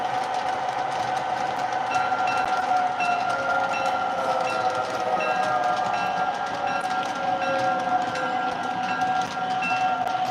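O scale model train reversing, a continuous rolling rumble of wheels on track with tonal motor whine and light rhythmic clicks, steady and close, with no talking.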